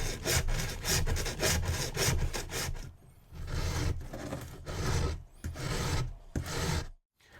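Hand filing down the metal prongs of a comb: steady back-and-forth rasping strokes in quick rhythmic bursts, close and fairly loud, pausing briefly around the third and fifth seconds before stopping near the end, with no talking.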